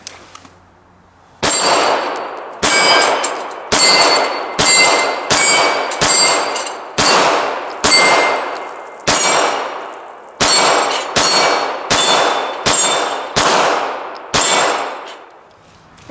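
Sig Legion SAO pistol rounds striking steel targets at a shooting range: a series of about a dozen loud, sharp metallic clangs, each ringing briefly before the next, set at a steady, deliberate pace.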